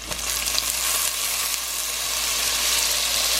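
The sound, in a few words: garlic and scallions sizzling in pan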